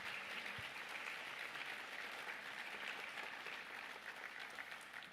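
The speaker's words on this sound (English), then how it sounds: "How about a round of applause for the Gray family?" Steady applause from an audience at a nursing capping ceremony at Murray State College, an even wash of clapping held at a faint, distant level throughout.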